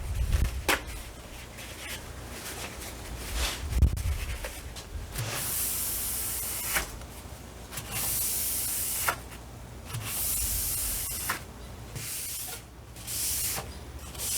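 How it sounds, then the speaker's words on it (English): Spray primer hisses out of an aerosol can onto a wooden side table in repeated close bursts of a few seconds each, separated by short pauses and faint handling noises. "So now I'm spraying the primer onto the side table."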